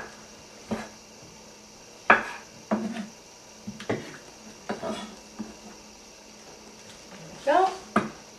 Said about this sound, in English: You need a nice sharp knife for your tomatoes